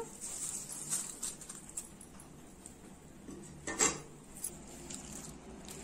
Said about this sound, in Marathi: मिरची कढीपत्ता तळून घेतलेला आहे तो पोह्यांवर टाकूया